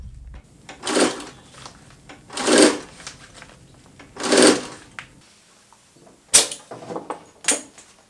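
A sewing machine stitches a running phone pouch in several short bursts of rapid needle clatter, loud and close, separated by brief pauses and ending in a few quicker runs.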